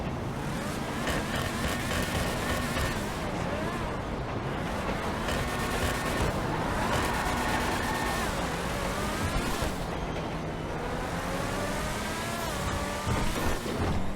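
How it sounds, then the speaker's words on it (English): A Principe Deveste Eight sports car engine in GTA Online revs and drones continuously, pitch rising and falling with throttle blips, loud and close throughout. "so we can rev it up. Let's see how it sounds"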